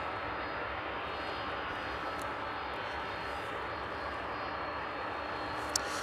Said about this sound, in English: The UPS 767 almost upon us.